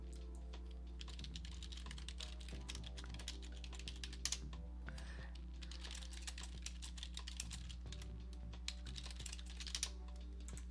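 Keys on a computer keyboard clack in a steady run of close, crisp taps as an email address is entered, with a low constant hum underneath and no talking.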